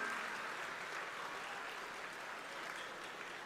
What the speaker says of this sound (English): a huge round of applause on that, my dear students